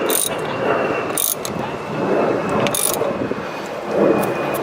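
Ratchet with a socket working on the oil filter housing of a 2011 BMW 335i xDrive, giving short bursts of clicking between quieter mechanical handling in a garage setting.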